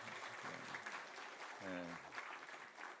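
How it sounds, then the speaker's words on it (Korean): Church congregation at a Sunday service applauding children on Children's Sunday, a steady crowd clapping throughout with a voice talking briefly over it. "우리 다시 한번 축복의 박수를 부탁드립니다."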